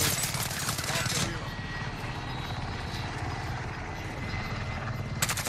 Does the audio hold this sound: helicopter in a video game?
yes